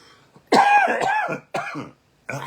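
A few harsh coughs and throat clearings in separate bursts, close and loud, with short silent pauses between them.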